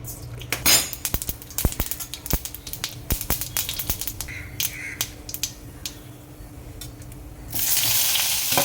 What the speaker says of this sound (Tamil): இதில் கடுகு தவிச்சிடலாம்